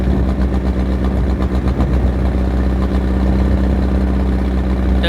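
A steady, loud boat engine idles with a low throbbing rumble from nearby exhaust aboard a water taxi, continuous and close, with no voices.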